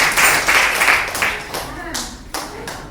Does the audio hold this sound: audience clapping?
yes